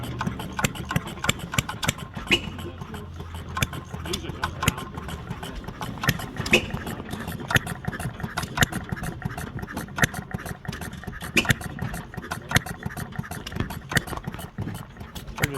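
An antique hit-and-miss stationary engine runs at an engine collection with a steady train of sharp mechanical clicks and thumps over a low chugging rumble, continuous and fairly close.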